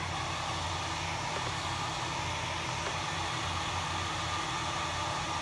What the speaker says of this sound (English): I'm just going to go with a low blow dryer and dry it real quick